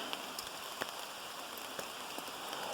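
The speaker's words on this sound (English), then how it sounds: "Rainy, rainy." Steady rain patters on a quickly rigged outdoor shelter, a dense continuous hiss with scattered louder drops striking close by, no voices.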